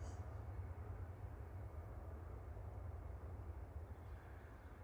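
An Airbus A319 Classic of EasyJet departing Manchester Airport, a faint, distant low engine rumble holding steady throughout with a brief higher hiss at the start.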